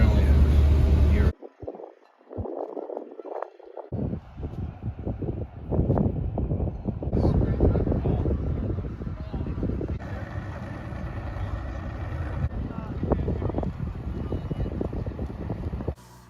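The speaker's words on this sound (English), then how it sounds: "I know you guys could hear the wind in those clips alone" Strong south wind gusts across the water on an early tournament morning, buffeting the microphone with heavy low rumbling roar and rushing noise that rises and falls throughout, close and loud.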